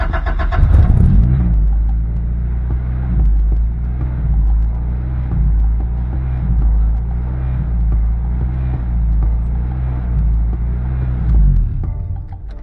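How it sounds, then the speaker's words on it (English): An Integra's B18 engine, just fitted with a new timing belt, cranks and catches, then settles into a steady, loud idle with a deep rumbling pulse that holds for several seconds. "So the car seems to be running normal"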